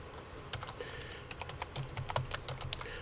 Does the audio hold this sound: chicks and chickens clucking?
no